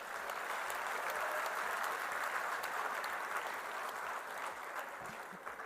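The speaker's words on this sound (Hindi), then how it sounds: "उनको भी एक बार जोरदार ताली बजाएं" A large audience at a Rajasthan government event gives loud, sustained applause for a Union minister, a steady dense clapping that carries on throughout without speech.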